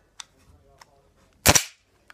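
An Assassin's Creed Ezio toy hidden blade springs out with one sharp, loud snap, preceded by a few faint clicks and followed by a small tick.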